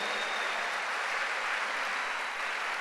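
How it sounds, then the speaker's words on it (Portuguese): Steady applause from a church congregation at an El Shaddai congress, a dense even wash of clapping that holds at the same level throughout with no voices on top. "Vamos dar um aplauso a Jesus?"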